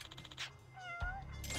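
A cat meows in a video game's cat cafe, a couple of short mid-pitched calls over a steady low background hum and game ambience, with no talking.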